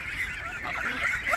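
Geese kept on a small farm honk loudly and continuously, several birds calling over one another close by with no talk.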